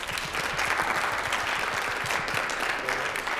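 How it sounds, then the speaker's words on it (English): A high school American government class applauding together, steady broadband clapping with faint rhythmic low thumps beneath, continuous and moderately loud for the full few seconds. "So give yourselves a round of applause as well."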